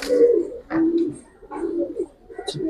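Close, loud cooing from Giribaz pigeons held for sale, several rolling coos in quick succession with short pauses between them and no talking.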